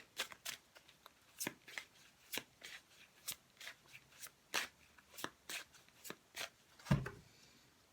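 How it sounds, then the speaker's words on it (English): Cards being shuffled in a series of quick riffling bursts, sharp papery flutters repeating at an irregular pace, close and fairly quiet. "giving them a very good shuffle"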